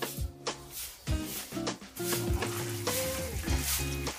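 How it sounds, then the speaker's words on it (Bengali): Small pieces of paneer, about 100 grams, fry lightly in hot oil in a wok, giving a steady close sizzle broken by several louder bursts as pieces shift or are stirred. "একদম হালকা করে আমি পনিরটাকে ভেজে নেব।"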